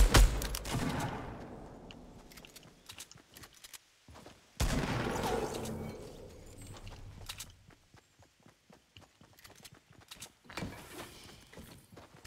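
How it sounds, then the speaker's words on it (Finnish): Gunfire in a Fortnite 50v50 match comes in three separate bursts of rapid, cracking shots. Each burst trails off into echoing decay, with quieter scattered pops between them. "Tuolla ammutaan."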